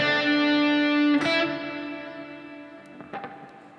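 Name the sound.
guitar playing a short staccato riff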